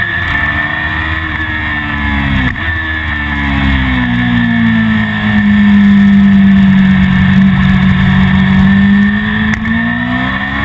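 Motorcycles on the Mondello race track during a training day, a loud, sustained engine drone that climbs and falls in pitch as bikes pass through a corner, steady throughout.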